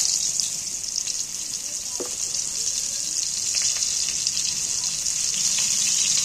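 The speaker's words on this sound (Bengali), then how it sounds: "এইবার তেলের মধ্যে ভালো করে কম আঁচে, কম জাল দিয়ে ভালো করে পটলগুলোকে ভেজে নেব।" Pointed gourd (potol) pieces frying in a little oil with turmeric, giving a steady, even sizzle that holds close and continuous throughout, with a few faint scrapes and clinks and no talking.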